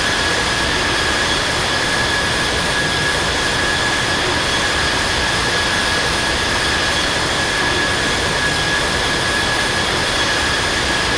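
Air Asia Airbus A320 jet engines roaring at takeoff at Sydney International Airport, a loud, steady broadband rush with a thin high whine held constant throughout, no voices.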